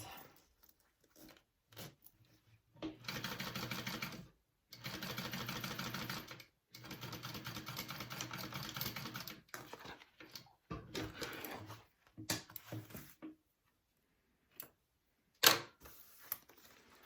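Sewing machine stitching a zipper without a zipper foot, in several bursts of rapid mechanical chatter separated by pauses, plus a few sharp clicks and handling noises, close and moderately loud.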